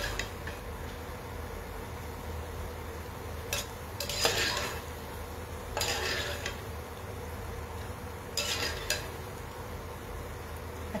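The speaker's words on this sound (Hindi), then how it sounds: "मैंने पकौड़ियों को तल लिया है, आप देखेंगे ये तल रही हैं" Pakoras frying in hot oil for Punjabi kadhi, a steady low sizzle under several brief metal clatters and scrapes of a utensil in the pan, heard close with no talking.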